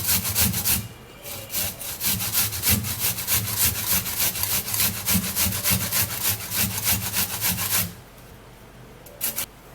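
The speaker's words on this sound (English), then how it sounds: "either grate your onion or you blend it. So I'm going to be grating mine" Onion being grated by hand on a grater, a loud rhythmic rasping of steady back-and-forth strokes that runs for about eight seconds, then stops with a few faint scrapes after.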